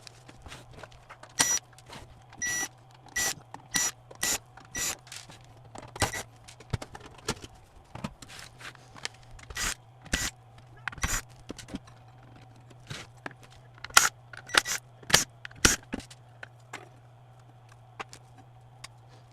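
Someone opening the case of a Magnavox MDR865 HDD/DVD recorder to swap its hard drive: a quiet room filled with sharp metallic clicks, taps and screw or panel snaps in irregular bursts over a steady low electrical hum, no talking.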